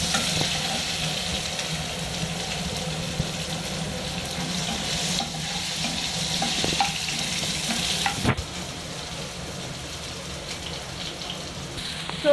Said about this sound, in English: So now we are pouring a tomato in it.